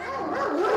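A muzzled Central Asian shepherd dog at an animal shelter gives a short, close, whining bark-like cry that rises in pitch over under a second, alone.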